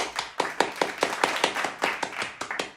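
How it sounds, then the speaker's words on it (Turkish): During a children's piano lesson, a small group claps in a lively, uneven rhythm of about a dozen sharp, close claps over a few seconds, with no talking. "Hadi yine kendimize ve yeni arkadaşımıza ve bana kocaman bir alkış"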